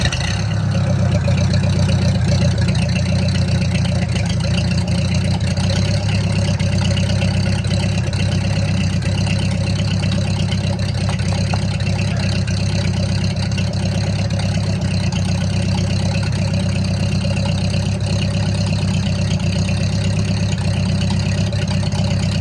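An abandoned 1949 Ford 8N tractor engine, run after sitting for years, idles steadily and loudly at close range with a deep, even rumble throughout and no talking.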